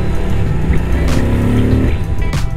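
Moto Guzzi motorcycle engine heard up close, a loud rumbling idle that rises into a sustained rev and then drops back, with brief rushes of wind noise.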